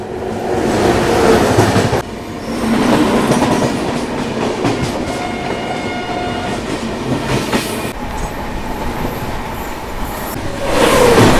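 The Garib Rath Express rolls along at speed, a loud steady rumble with rhythmic clatter of wheels on track and the brief rise of a passing sound near the end.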